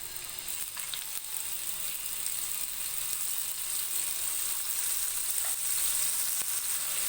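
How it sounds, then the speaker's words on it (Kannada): Fish sizzling and frying steadily on a tawa over a medium flame, a continuous close hiss with faint crackles and no talk. "ಮೀಡಿಯಮ್ ಉರಿಲಿ ಇಟ್ಕೊಂಡು ಫಿಶ್ ಹಾಕೋತಾ ಇದ್ದೀನಿ ಫ್ರೆಂಡ್ಸ್ ಇವಾಗ ಫಿಶ್ ಹಾಕೋತಾ ಇದ್ದೀನಿ"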